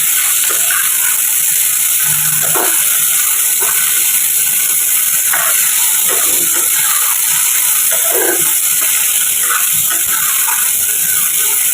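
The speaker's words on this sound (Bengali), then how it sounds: "আলুটা দিয়ে একটু ভাজা করে নিই।" Potatoes frying in a pan, a loud, constant hiss of hot oil with occasional soft clinks and stirring sounds, close and unbroken.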